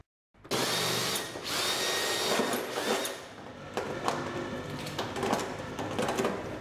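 A cordless battery-powered drill whirs steadily after a brief silence, motor pitch shifting as it bites, with short clicks and pauses between bursts, while fitting pieces to be riveted for a Moser lamp.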